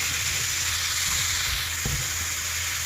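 Radish greens frying with shrimp in a hot pan, a loud continuous hissing sizzle with a few soft stirring scrapes, heard up close.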